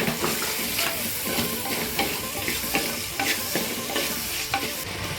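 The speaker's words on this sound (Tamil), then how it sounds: "இப்போ இந்த பக்கம் வெங்காயம் தக்காளிலாம் நல்லா வதங்கட்டும்" Salted onion and tomato sauté in a pan for a Chettinad ghee fish curry, giving a continuous close hiss and sizzle with regular soft scraping strokes of stirring throughout.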